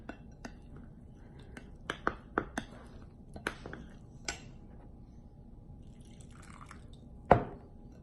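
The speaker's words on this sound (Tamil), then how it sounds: "வாட்டர். கொஞ்சம் லிட்டில் பை லிட்டில் விட்டு கலந்துக்கோங்க" Water dribbles little by little into batter for sweet banana fry, heard as sparse, close drips and light taps scattered over a quiet background, with a sharper splash near the end.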